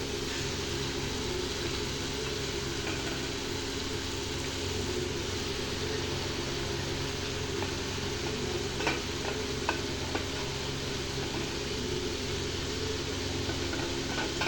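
Mint leaves cook in a pan for chutney with a continuous soft sizzle and faint scraping stirs, steady and close, with light clicks of a spoon now and then.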